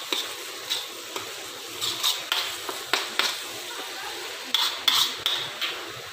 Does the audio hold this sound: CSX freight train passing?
no